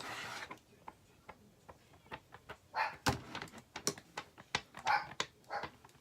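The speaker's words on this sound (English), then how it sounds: "Oh, Lola barking again." A dog barks several times at a moderate distance, the barks irregular and mixed with scattered knocks and thumps nearby.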